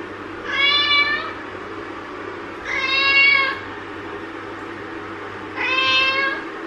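Three loud, drawn-out cat meows, each about a second long with pauses between, close by over a low steady hum indoors.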